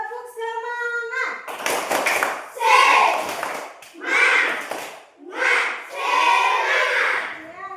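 Children chant and clap a rhythmic spirit clap in a classroom, with loud bursts of clapping and voices rising and falling in patterned phrases after a short sung lead-in.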